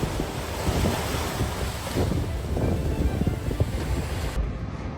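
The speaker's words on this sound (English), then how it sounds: "The rising sea waves flooded the gaps beneath the ground, turning a house in Guangdong, China into a fountain" Sea waves surge and flood the gaps beneath a house in Guangdong, China, giving a loud, continuous rushing wash with wind-like roar and no speech.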